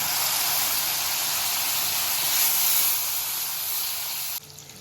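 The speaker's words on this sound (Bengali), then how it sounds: "আমি জল দিয়ে একটু মশলাটা কষে নেব।" Spice masala in a frying pan for soyabean curry hisses loudly as water is added, a steady broad steamy sizzle that holds for several seconds and then drops off abruptly.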